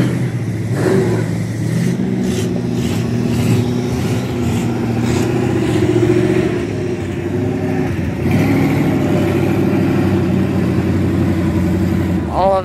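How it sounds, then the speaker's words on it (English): Big trucks driving through a mud bog, engines revving and droning steadily at a distance with rises in pitch, while people talk over the engine noise. "All of these big trucks try to go through that one big pit over there."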